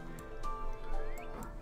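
A horse in Minecraft gives a short whinny over soft background game music, brief and fairly quiet, lasting under two seconds.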